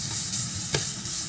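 Yardlong beans tossed into a hot pan with fried dried chilies, giving a continuous bright sizzle with one brief spatula scrape, close up and with no voices.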